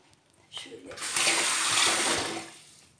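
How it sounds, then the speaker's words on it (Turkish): Hands rinsed under a running kitchen tap, a close rush of water swelling in, holding for about a second and a half, then tapering off. "Elimizi tekrar yıkıyoruz."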